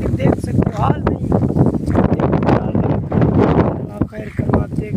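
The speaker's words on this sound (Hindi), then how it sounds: "बहुत ही तेज हवा है" Strong stormy wind roars against the microphone by a roadside, a loud continuous buffeting rush with gusts rising and falling, while someone talks over it throughout.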